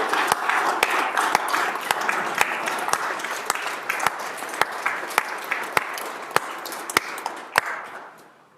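Applause fills the Senate chamber, a steady wash of many hands clapping, with sharp separate claps standing out as it fades toward the end.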